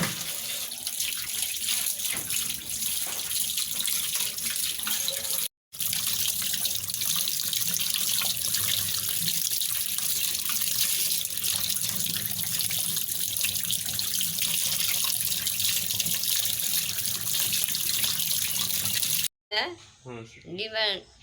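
A kitchen tap runs steadily and loudly for about twenty seconds while cut tilapia fish pieces are washed beneath it, the water splashing against the fish and basin, with two short breaks and a brief clatter at the end.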